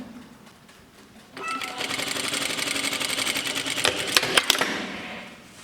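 A sewing machine stitching a shirt sleeve down to the cuff starts after a quiet second and runs in a fast steady rattle for about four seconds, ending with a few sharp clicks, close up.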